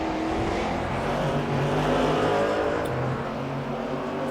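Racing Audis and BMWs at Spa, engines droning steadily at a distance with a sustained roar and slight rises in pitch, no voices over it.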